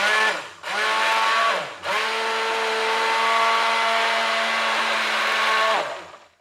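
An electric stick blender churning lye and oil into soap, pulsing on twice in short bursts and then running in a long, steady, close-up motor whine that fades out at the end.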